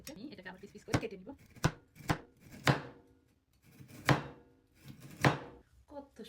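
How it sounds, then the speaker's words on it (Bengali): Star fruit sliced into pieces with a knife on a board, producing about seven distinct close chopping thuds at uneven intervals, with a voice speaking faintly between cuts. "আমি এটাকে আবার পিস পিস করে কেটে নিব"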